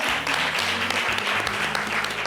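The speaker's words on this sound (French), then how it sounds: "On va l'applaudir bien fort." Studio audience applauding a guest on a French-language talk show, a short burst of clapping with some low background sound underneath.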